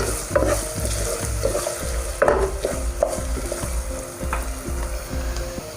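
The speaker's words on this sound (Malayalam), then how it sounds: "മൂത്ത് വന്ന ചെറിയുള്ളിലേക്ക് നമുക്കിനി ചതച്ച് വെച്ചിരിക്കുന്ന ഇഞ്ചിയും വെളുത്തുള്ളിയും അതേപോലെ കീറി വെച്ചിരിക്കുന്ന പച്ചമുളകും ഇട്ട് നന്നായിട്ട് മൂപ്പിച്ചെടുക്കാം." Crushed ginger, garlic and slit green chilies fry with shallots for a Kerala seer fish head curry, an even sizzle under regular close spatula stirs and scrapes; no talking.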